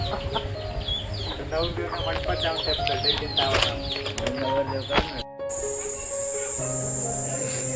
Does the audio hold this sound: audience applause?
no